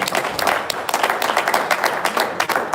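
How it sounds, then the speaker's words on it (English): Audience applause at an Igbo unification conference, a steady wash of many hands clapping that holds evenly for nearly three seconds with no voices standing out. "Please, can we give him another round of applause?"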